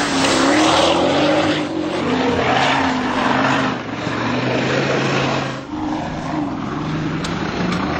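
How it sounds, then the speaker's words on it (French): A Porsche Cayenne Turbo S on extremely soft sand dunes with slightly deflated tyres, its engine roaring loud and close as it revs and strains, the tone rising and dipping with wind rush, no voices. "le Cayenne est bien un tout-terrain comme nous avons pu le vérifier dans les dunes sur du sable extrêmement meuble"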